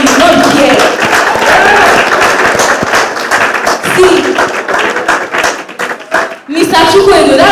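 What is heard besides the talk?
audience applauding the sponsors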